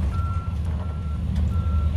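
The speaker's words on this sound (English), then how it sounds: "The worker backs the lime slurry truck up and gets it ready to unload." A lime slurry truck reverses at an asphaltic concrete transition job, its backup alarm giving three steady, evenly spaced beeps over a loud, constant diesel engine rumble.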